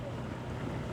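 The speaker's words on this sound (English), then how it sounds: "I wish it wasn't so windy." Wind buffets outdoors beside a DIY tripod torch fire pit on a summer night, a brief, faint, steady rush.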